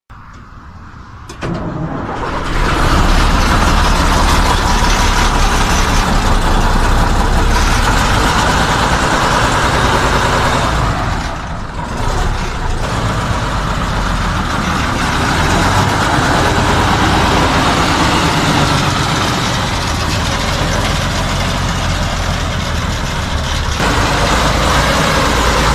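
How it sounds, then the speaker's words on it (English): A Tatra 111 truck's 180-horsepower air-cooled V12 engine cranks and fires into a loud, deep, steady rumbling idle, with a short dip in the noise partway through and no talk. "With a 180 horsepower air-cooled V12 engine, this beast starts with a deep rumble."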